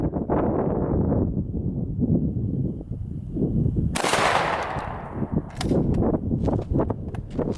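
A Stoeger shotgun with an improved choke fires target loads outdoors: one loud sharp blast cuts through steady wind rumble, followed shortly by a few more bursts of noise.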